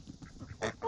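Geese, with ducks nearby, feed on the flesh of a pumpkin. A short run of soft nasal quacking and honking calls comes close together, with a brighter burst near the end.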